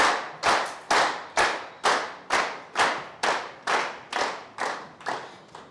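A group at a business training session claps in slow unison, about a dozen sharp, evenly spaced beats at a steady rhythm, loud and close with no voices.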